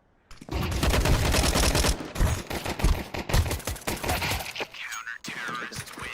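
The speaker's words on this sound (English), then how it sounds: "Throwing flashbang." A flashbang grenade thrown in video game combat: a loud, sustained burst of noise followed by rapid, uneven bangs and thumps like gunfire, with voices mixed in.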